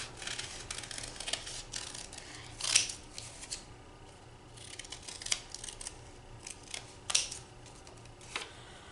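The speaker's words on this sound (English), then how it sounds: "hold your pages together and cut 5 at once" Scissors cut through five stacked book pages at once, giving soft crisp snips and papery rustling. Three sharper cuts stand out among quieter handling noises close by.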